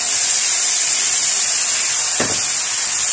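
Spice paste hits hot oil over browned onions for a mixed vegetable sabzi tadka, giving a strong, steady sizzling hiss close up that runs unbroken throughout, with one brief soft knock near the end.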